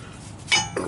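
A brake caliper on a 2010 Nissan Altima is turned by hand during a brake change, giving a short metallic clink and scrape, close and brief, over a quiet background.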